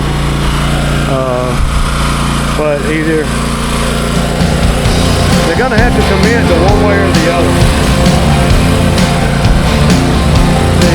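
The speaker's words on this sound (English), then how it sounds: "I'm mowing just like a lawn, but you gotta be careful." A lawn mower runs loud and steady close by while cutting grass, its engine drone continuous throughout, with someone talking over it.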